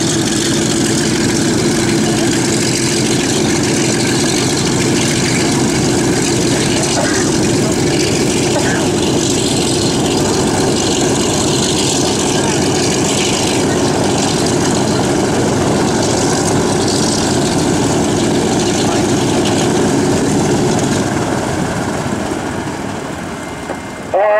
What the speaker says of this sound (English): They're shutting engines down, and in just a moment they're going to crack the door on the airplane